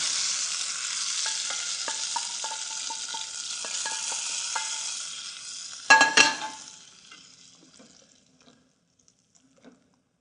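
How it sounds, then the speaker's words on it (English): Hot oil carrying freshly popped Indian spices pours into a pan, bursting into a loud sizzle and fry that crackles steadily, then spikes with a sharp hiss and fades to quiet within a few seconds. "this oil with the popped spices makes its way right into this pan"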